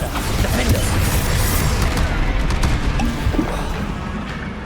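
Bombarda explosion spell cast in the video game Hogwarts Legacy: a dense, loud burst of crashing, booming blast noise that stays heavy for several seconds amid combat, with no voices.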